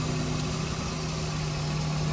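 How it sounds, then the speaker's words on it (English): A car engine with a leaking head gasket idles steadily with a constant low rumble and hum, no change in pitch throughout. "Got the car running, idling."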